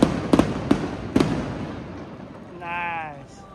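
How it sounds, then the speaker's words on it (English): Fireworks burst over the Sumida River in Tokyo as several sharp, close bangs in quick succession, followed by a quieter rumble and a brief whistle-like tone amid crowd ambience. "And the fireworks on that side."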